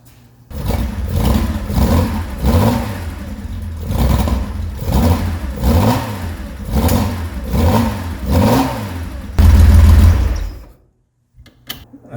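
A Porsche 911T engine fires up and revs repeatedly, each blip of the throttle rising and falling in a loud, close rhythm, ending in a heavy roar before cutting to near silence.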